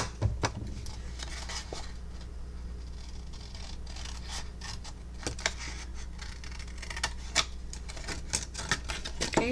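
Scissors cutting a sheet of paper for a Valentine candy dispenser craft, with a series of crisp, irregular snips and rustles close by over a low steady hum, without speech.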